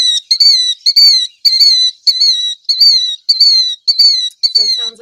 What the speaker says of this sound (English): This is the call of the killdeer.